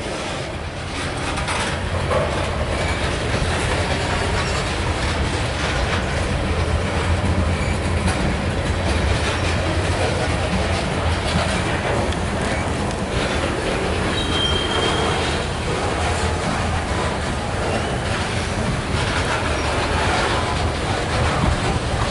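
A loaded CSX grain train led by a Ferromex SD70ACE locomotive rolls steadily past at close range, a continuous loud rumble of rail cars with wheel noise and a brief squeal, no talking.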